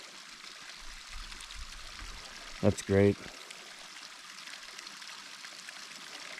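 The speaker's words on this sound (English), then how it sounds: "You can hear this running water here down there." Steady, faint rush of a stream's running water along a mountain hiking trail between Mt Laguna and Cuyamaca Rancho near San Diego, with a brief spoken remark over it.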